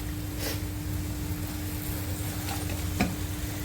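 Spices and vegetables, with ground coriander, cumin and turmeric, being stir-fried in a pan to make a Ghevda (flat bean) bhaji, giving a steady close sizzle with a few sharper stirring scrapes and no talk.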